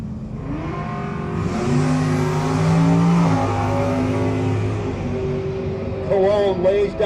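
At a no-box drag race, a pearl first-generation Camaro and a fourth-generation car roar with loud, sustained engine noise that rises and holds, close by, with a voice talking partway through.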